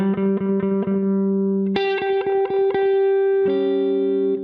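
Electric guitar through distortion and effects picks repeated notes around the flat seventh G of a blues progression, plucks in quick succession with sustained ringing tones shifting pitch twice, close and clean with no speech.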